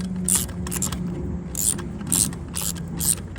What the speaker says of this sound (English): Take this bolt off first.